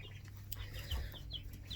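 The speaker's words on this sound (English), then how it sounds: "These are where our baby chickens are at." Faint, high chirping peeps from baby chicks in a brooder, a few scattered calls over a low steady hum.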